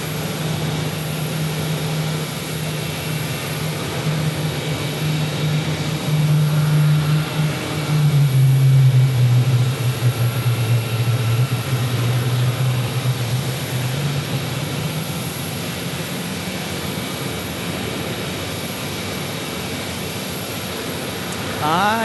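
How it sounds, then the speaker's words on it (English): Jet airliners at Phoenix Sky Harbor Airport, a steady loud engine roar whose pitch slowly drops and rises as the planes taxi and prepare to depart, continuous throughout. "We got 2 planes"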